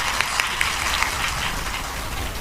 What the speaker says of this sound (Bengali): ওনার জন্য জোরদার তালি